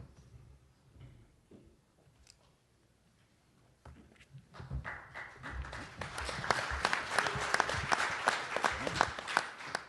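After a quiet stretch with light shuffling, an audience at a state health department presentation breaks into applause for a speaker, the clapping swelling and holding strong through the second half.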